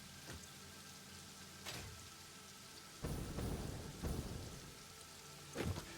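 Rain falls in the video game Satisfactory as a steady, fairly faint hiss with occasional louder bursts and rumbles like distant thunder, with no talk over it.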